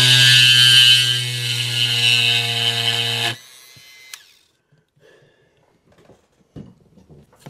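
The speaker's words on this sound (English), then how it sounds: "So I'll break out the Dremel, and we'll put a notch in here." A Dremel rotary tool cuts a notch into a static grass applicator build, a loud, steady high-pitched whine for about three seconds that stops abruptly, followed by faint handling clicks and small taps.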